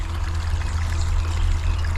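Water pours steadily from a small waterfall into a garden goldfish pond, a continuous close rushing and splashing with no pauses and no voices.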